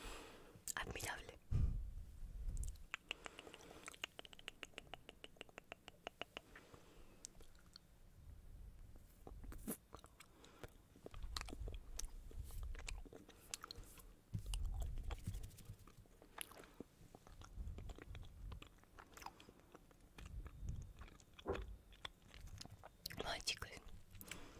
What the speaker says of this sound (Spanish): masticar a palo seco algo tan frío